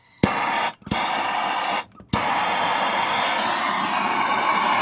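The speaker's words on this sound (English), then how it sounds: "I'm gonna go ahead and use my torch just to get some heat on it." A propane torch roars steadily while heating a stuck bolt during a 4th Gen 4Runner upper control arm replacement, the flame catching with sharp pops after two brief cutoffs and then holding a loud, continuous hiss.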